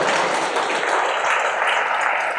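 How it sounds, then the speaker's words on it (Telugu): A crowd applauding at a book cover launch event at a study circle in Hyderabad, a steady wash of many hands clapping together, loud and continuous throughout with no gaps. "మరి మీరు ఒక్కసారి మాకు క్లాప్స్ తోటి ఈ సందర్భాన్ని ఆహ్వానిస్తే సార్"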